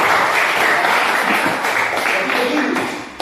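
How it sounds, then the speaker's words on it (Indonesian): A class bursts into steady, loud applause that keeps going for a few seconds, a dense wash of clapping hands with faint voices mixed in. "Berikan tepuk tangan."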